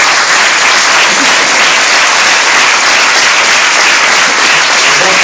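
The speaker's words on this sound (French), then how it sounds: "Oui, vous pouvez l'applaudir aussi." A loud, close wave of crowd applause fills a French hall, dense continuous clapping from many hands holding at full strength throughout.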